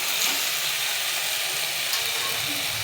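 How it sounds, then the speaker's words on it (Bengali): Potatoes sizzle as they fry and are stirred together with chicken in a pan, making a steady, dense hiss that runs throughout at close range, with no talking. "আলুগুলোকে দিয়েও আমি একটু কষাবো মাংসের সঙ্গে।"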